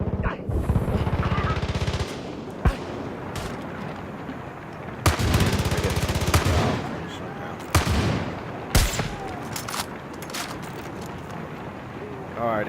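Bursts of gunfire from the video game Far Cry 5, with rapid automatic fire and loud individual shots cracking out repeatedly over a dense, noisy battle mix while someone talks.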